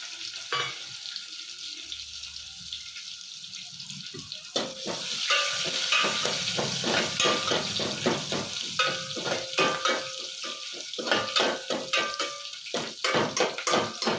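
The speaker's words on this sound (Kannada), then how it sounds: "ಈ ಸ್ವಲ್ಪ ಈರುಳ್ಳಿ ಚೆನ್ನಾಗಿ ಗೋಲ್ಡನ್ ಫ್ರೈ ಆಗಲಿ" Onion, curry leaves, garlic and dried red chilli fry in oil for a basale greens sambar: a quiet hiss first, then a loud, dense sizzle from about four seconds on, with spoon scrapes and stirring clatter mixed in.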